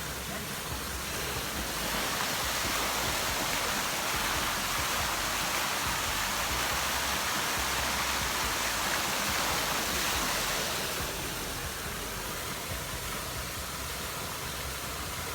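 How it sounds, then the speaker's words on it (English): A waterfall roars with a broad, steady rush of water, swelling louder in the middle before easing back, constant throughout. "The waterfall is pretty pretty."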